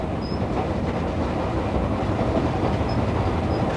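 A crowded Japanese commuter train rumbles along its rails in a steady, dense roar with faint clicks and brief high squeals, heard from inside without talk.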